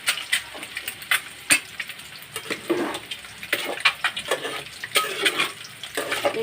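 Tamarind water is poured into a sizzling egg and drumstick gravy in a pan, bringing a steady hiss and bubbling with scattered spoon clinks and stirring scrapes, close and continuous, with no talking.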